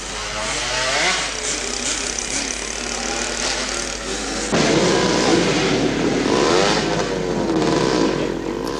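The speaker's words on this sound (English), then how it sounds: "they can roar their engines like a squadron of mosquitoes all day without disturbing anyone" Small kids' trail bikes at a club ride, several buzzing two-stroke engines revving and droning loudly together like a swarm, with a sudden rise in intensity midway as the bikes pass close.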